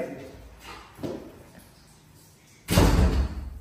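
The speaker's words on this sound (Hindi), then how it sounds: "ये दरवाजा इतनी जोर से कैसे बंद किया" A door in a home slams shut hard with one loud, heavy bang near the end, after softer thumps and faint movement sounds.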